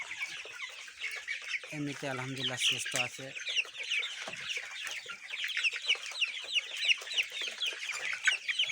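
Chickens cluck steadily throughout a colour bird poultry farm shed holding about a thousand month-old birds, a dense chorus of overlapping calls with someone talking over it for a few seconds near the start.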